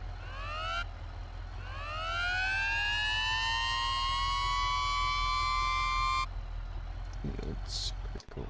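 A vintage hand-crank siren in the BeamNG driving game winds up in a long rising wail, cuts off, then spins up again and holds a steady loud tone before stopping, over constant engine rumble.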